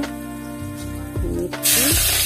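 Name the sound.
cumin seeds sizzling in a hot wok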